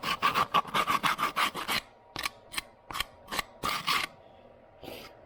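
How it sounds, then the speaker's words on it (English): Coarse 60 grit sandpaper rubbed up and down along the freshly cut edge of a PVC piece, in rapid rasping strokes that slow into separate scrapes, close and clear with no talking. "take some 60 grit sandpaper and just rub up and down the edge there"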